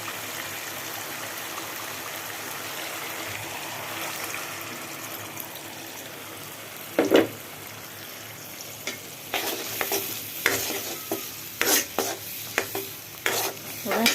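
Food frying in a pan with ginger-garlic paste and salt, giving a steady sizzle with a spoon scraping and stirring, then a run of sharper clinks and scrapes toward the end.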